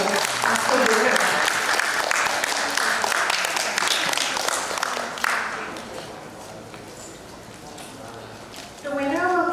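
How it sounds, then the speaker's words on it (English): A large audience at a Thailand public speaking competition bursts into loud sustained applause for the announced winner, the clapping fading after about five seconds before a voice resumes speaking. "please give a big round of applause to Chawanwik Cherpudi from สวนกุหลาบวิทยาลัย School as the winner"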